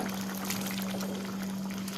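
Boiled cowpeas tipped into a pot of simmering kara kulambu, giving a continuous wet pouring, bubbling rush that lasts throughout, close and steady over a low hum.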